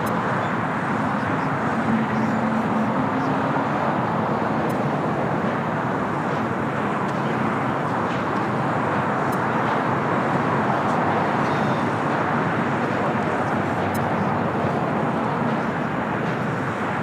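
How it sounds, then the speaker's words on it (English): A China Eastern Boeing 777 taxis at LAX toward runway 25 right, its engines giving a steady, broad roar that holds even and continuous throughout, mixed with distant airport traffic noise and no talk. "China Eastern 777 starting taxi heading to 25 at right."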